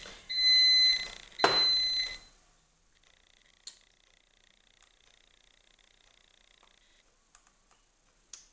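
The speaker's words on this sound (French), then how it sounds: "C'est ma machine à laver qui sonne" A washing machine signalling the end of its cycle with a few loud electronic beeps near the start, then a faint, thin tone that lingers in a quiet room with scattered small clicks.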